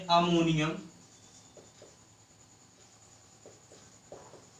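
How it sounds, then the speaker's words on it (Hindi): A chemical formula being written on a board in a chemistry class, a few short faint strokes and taps following a burst of a teacher's speech. "तो लिख लेते हैं सबसे पहले"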